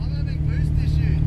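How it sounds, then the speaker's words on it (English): Ford FPV F6 engine droning under load during a roll racing session at Willowbank, a steady low growl heard up close with someone talking over it. "The car sounds bloody. It's sounding good, man, on song."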